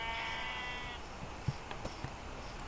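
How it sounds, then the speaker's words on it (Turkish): Sheep bleat in the video game Minecraft, a wavering, tonal cry that fades out, followed by a few faint clicks against steady background noise. "Oo, üç tane koyun."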